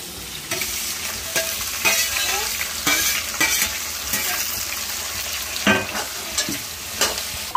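Dried silver fish fry in hot oil with a loud, close, constant sizzle, while a utensil scrapes and stirs the pan in quick irregular strokes, with no speech.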